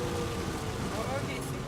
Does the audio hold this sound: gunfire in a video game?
no